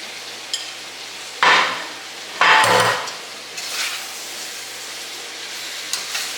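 Sauce is stirred into a ground beef stir fry in a pan, with a low constant sizzle and a few louder scraping, hissing bursts from the spoon, close and alone without talk.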